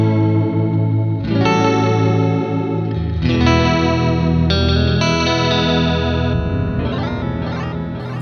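Guitar through a Line 6 DL4 MkII pedal set to stereo delay, with detuned chorus-like doubling; sustained chords repeat and blur into echoing, shimmering tails at steady volume, with no talking.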